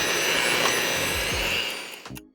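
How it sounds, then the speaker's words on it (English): An electric hand mixer beats a keto marshmallow mixture with a loud, steady whirring drone that holds for about two seconds, then cuts off abruptly. "We're gonna beat this for at least 10 minutes. It might take a little longer because we're using the hand mixer."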